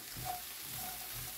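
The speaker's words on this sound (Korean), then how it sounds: "호박씨도 넣고 멸치 이렇게 맛있게 볶았습니다" Dried anchovies stir-frying in a pan with pumpkin seeds, a soft, faint continuous sizzle with light scraping stirs, brief and close.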